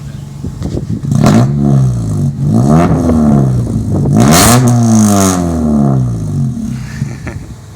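A loud car engine in a slammed Honda Accord or Integra revs repeatedly through a raw straight-pipe exhaust with no resonator, pitch climbing and falling in several close, throaty bursts.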